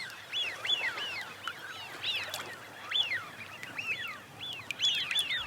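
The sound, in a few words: Eurasian wigeons on Chilika lake wetland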